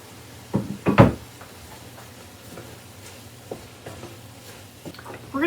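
Chopped onions tipped into a pan of cooked hamburger meat for taco soup, giving a couple of soft thuds and a scrape near the start, then quiet sizzle and small clatters.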